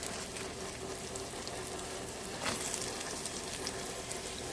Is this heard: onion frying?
yes